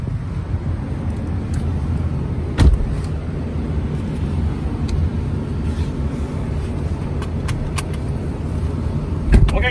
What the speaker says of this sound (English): Let's take you on a short test drive,